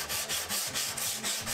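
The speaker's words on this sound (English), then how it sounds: "I did some final hand sanding" Rhythmic hand sanding of a wooden mixing board case, a steady back-and-forth rasping scrape of abrasive on wood repeated about every quarter second, close and moderately loud with no talk.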